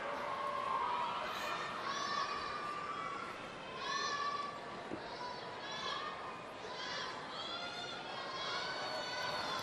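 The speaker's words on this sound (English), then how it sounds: "It's good to see them cheering on more than just their home team." School children cheer and shout in a crowd at the Ford World Women's Curling Championships 2018, a women's round-robin game of Canada against Denmark. Repeated bursts of high, excited young voices rise and fall, with a commentator talking over them.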